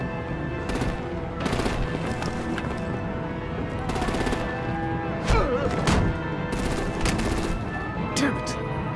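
Rapid machine-gun bursts and heavy artillery thumps from the Batman: The Enemy Within game crackle steadily over a loud battle bed, with voices shouting through the chaos.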